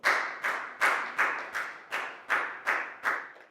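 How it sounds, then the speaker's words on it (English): Students in a classroom clap together in a slow, regular rhythm, nine crisp claps at even intervals, close-miked and unaccompanied by speech. "And a big round of applause for everybody doing a great job."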